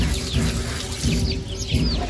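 Water splashes steadily as it is poured into a container of bran for raising mealworms at home, with birds chirping in the background.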